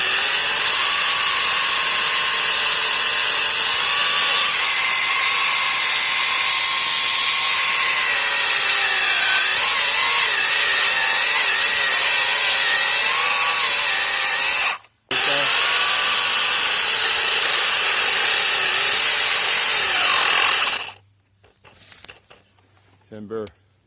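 A gasless battery-powered saw whines loudly and steadily as it cuts through a small tree trunk about as wide as its blade, dropping out briefly, then winding down to quiet at the end.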